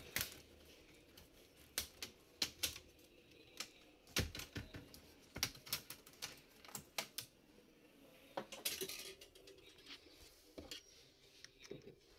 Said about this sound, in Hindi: नीचे अभी कीबोर्ड इसका जो है ओपन कर लेंगे।